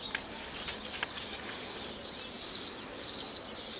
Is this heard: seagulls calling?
yes